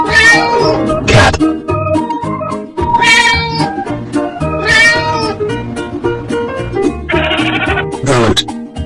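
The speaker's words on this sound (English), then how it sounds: "Cat." Cartoon cat meowing several times in loud, drawn-out bursts over a busy musical backing, each call rising and falling in pitch.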